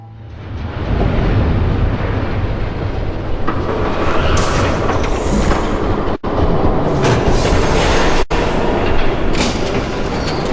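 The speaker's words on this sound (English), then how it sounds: "There's a train coming." A train approaching in the Batman Telltale game, a loud, steady rumble of rolling wheels and rail clatter building up, with metallic squeals and clanks on top.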